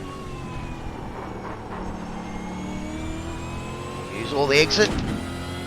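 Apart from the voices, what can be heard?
V8 Supercar engine accelerating in iRacing video game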